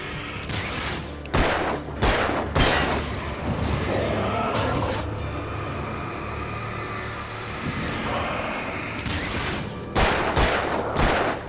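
Gunfire in the video game Alan Wake: sharp, loud shots in clusters, a few near the start, a single blast around the middle, and another quick burst near the end over a steady game ambience.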